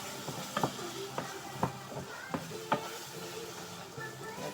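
Mushrooms frying in a pan on a home stove, giving a steady, close sizzle broken by several sharp scrapes and clinks as they are stirred.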